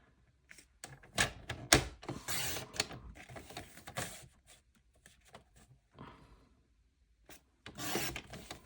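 Stacked card and paper squares being cut, a close series of irregular crisp snips and rustles with brief pauses between bursts, fairly quiet and without talking.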